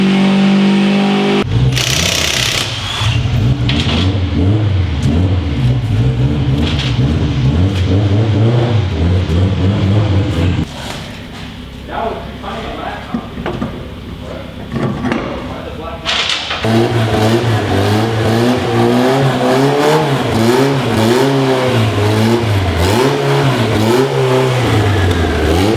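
A tuned hatchback car running on a dyno revs loud and sustained, its engine note rising and falling through several pulls, with a brief dip partway before the revving climbs hard again, and speech mixed in over it.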